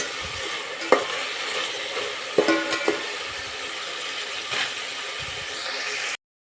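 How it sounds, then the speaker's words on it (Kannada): Onions for chicken biryani fry in hot oil until golden brown, a steady close sizzle broken by a few sharp clinks and scrapes of stirring, with no voices. "ಸ್ವಲ್ಪ ಈರುಳ್ಳಿನ ಗೋಲ್ಡನ್ ಬ್ರೌನ್ ಆಗೋ ತನಕ ಬಿಡಬೇಕು"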